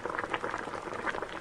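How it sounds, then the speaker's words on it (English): Water boils like a witch's cauldron in a sound effect, a dense, continuous bubbling and popping that stays fairly loud and close with no voices. "Boiling water / witch's cauldron."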